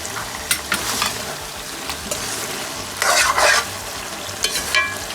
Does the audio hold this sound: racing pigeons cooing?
no